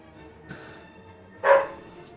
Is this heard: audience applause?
no